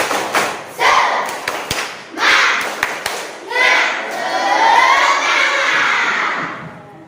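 Children perform a tepuk semangat clapping chant in an Indonesian classroom, sharp rhythmic claps in short bursts mixed with loud chanting voices, then sustained shouting toward the end.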